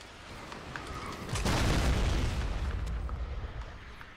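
Guided missile explosions in the video game Fortnite: one heavy, booming blast erupts partway through and then rumbles on in a long decaying roar.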